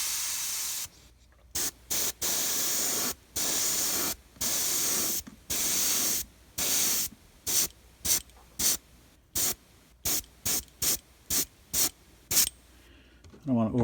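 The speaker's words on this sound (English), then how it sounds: "I'm going to spray some opaque black in there a little bit just to add those stripes" Short bursts of opaque black spray paint from an airbrush onto a 3D printed fishing lure, close-up hissing that starts and stops repeatedly, with longer sprays early on and quicker, choppier puffs later.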